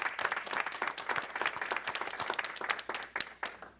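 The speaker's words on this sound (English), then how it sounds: "Applaud for them again, ladies and gentlemen." Quiet but distinct audience clapping for a band after its performance at an indoor event, individual hand claps audible in a brisk, uneven patter from a modest crowd, heard at a distance.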